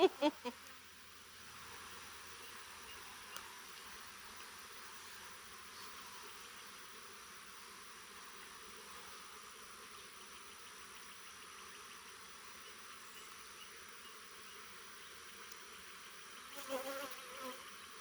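Honey bees hum around an open beehive in a continuous, even drone, fairly faint and steady, with a few brief knocks at the start and some handling noise near the end.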